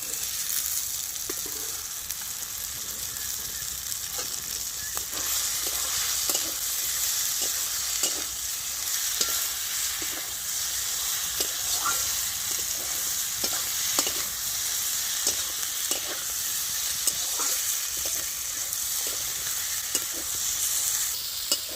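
Pieces of mutton from a pond-side recipe sautéing in a thick spice masala, a steady sizzle broken by frequent scraping stirs and clinks of a spatula against the pan, close and continuous with no talking.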